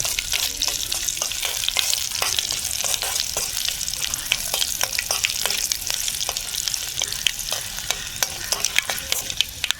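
Pineapple pachadi seasoning being stirred in a pan, curry leaves about to join: a steady run of spoon-scrapes and clicks over a continuous bright sizzle of frying, close and even throughout with no talking.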